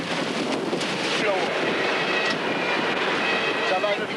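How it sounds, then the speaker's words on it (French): Strong wind roars continuously around the microphone during a wildfire, a dense, rushing blast with buffeting gusts. "Le vent souffle maintenant à 100 km/h."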